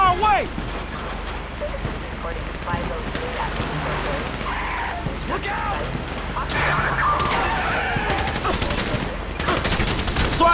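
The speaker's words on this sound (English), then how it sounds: "So I guess we're shooting our way out of here!" Rapid gunfire crackles through a loud Grand Theft Auto V shootout in the Paleto Score mission, dense bursts mixed with skidding vehicles and shouting voices, growing heavier toward the end.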